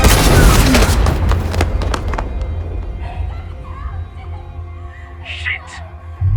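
A loud gunshot booms in an action crime movie, a heavy blast that rings out and decays into a low rumble, followed by faint voices.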